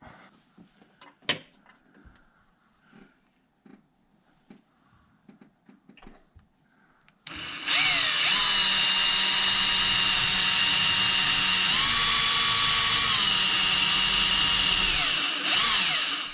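Quiet handling taps come first, then a power drill bores into a wall stud while a furnace thermostat is installed: a loud, steady whine lasting about nine seconds with slight pitch shifts before it cuts off.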